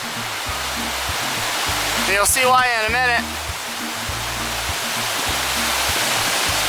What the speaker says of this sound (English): This is a really famous creek crossing, Silver Creek Falls.